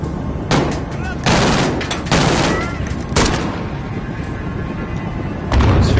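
Gunfire in the Modern Warfare campaign, several loud bursts of shots at irregular intervals, each a broad crack with a short rumbling tail, close and prominent with no talking.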